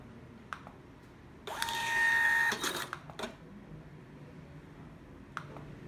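An Xprinter Q260 receipt printer prints a test page with a brief mechanical whir of about a second, framed by faint clicks and ticks in a quiet room.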